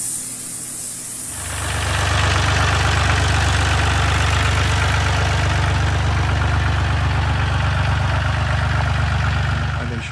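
A restored tractor engine, its motor rebuilt with replaced parts, starts up and settles into a loud, steady low idle that runs on unbroken close by.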